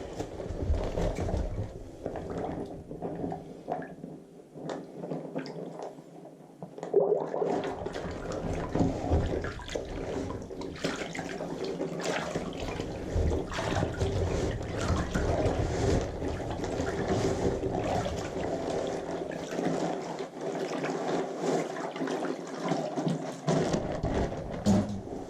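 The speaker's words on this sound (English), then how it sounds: "I'm going to go ahead and open it while underwater in order to keep a whole bunch of air from getting into the bag" A down sleeping bag opened and pressed underwater to soak makes a continuous low sloshing and gurgling with muffled rushing water, moderately quiet and without speech.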